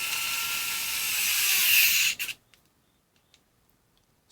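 A Craftsman cordless electric screwdriver runs in forward with a close, high-pitched motor whine for about two seconds, then stops abruptly, leaving a few faint clicks and taps.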